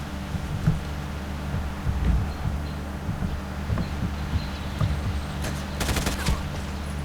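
Rapid gunfire from the player's weapon in a chicken-themed online shooter, with dense, fast bursts of shots rattling steadily across the clip over a constant low engine-like drone.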